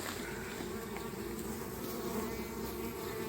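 Honeybee swarm recovered from a tree trunk, giving a steady, dense buzzing hum that runs without a break throughout, fairly close and moderately loud, with no voices.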